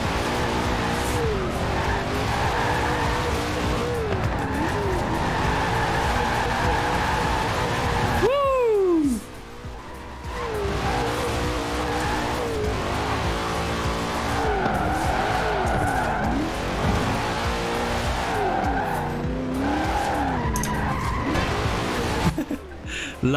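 A car drifting with the handbrake in Forza Horizon 4, fitted with oversized wheels: a steady engine roar with repeated sharp tire squeals and skids, loud and close, while someone talks over it.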